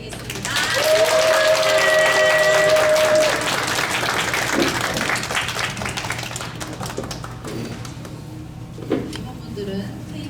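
A church youth festival crowd gives a big round of applause for the deacons, loud dense clapping with a voice over it that tapers into scattered claps and murmurs.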